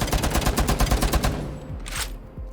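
Rapid bursts of gunfire in the Rainbow Six Siege shooting range, loud and close, a fast rhythmic string of shots that stops abruptly, followed by a couple of isolated single shots.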